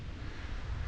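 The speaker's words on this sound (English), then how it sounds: "Oh, a little bit of a lull in the wind." Seaside wind at Magaluf, Mallorca, a steady broadband rush and buffeting against the microphone with a low rumble, constant and fairly soft throughout, with no voices.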